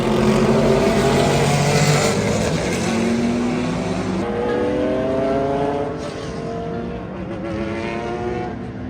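Race cars in a Masters race scream around the track at Circuit of the Americas, several engines overlapping with rising and falling pitch as they pass, loud and continuous throughout.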